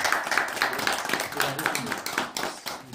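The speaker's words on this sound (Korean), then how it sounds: "박수 한번 좀 이렇게 격려해주시고" Steady crowd applause at a graduate thesis presentation, many hands clapping at once in a dense, continuous patter that holds at an even level throughout.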